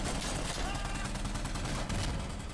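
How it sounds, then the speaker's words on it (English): Rapid, sharp gunfire from the video game Insurgency: Sandstorm crackles in a dense, loud burst, with overlapping shots and booming low end filling the whole stretch. "Gunshots are sharp and aggressive, obviously striving for realism"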